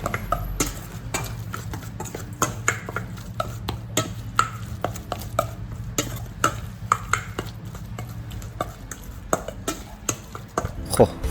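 Repeated soft wet slaps and scrapes of minced meat being mixed by hand in a bowl for Thai larb, an irregular steady rhythm, close up, with a low hum behind.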